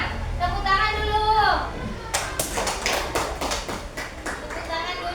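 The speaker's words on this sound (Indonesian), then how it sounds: "Tepuk tangan dulu." Students clap in a classroom, a burst of sharp, loud, uneven claps following a stretch of children's voices at close range.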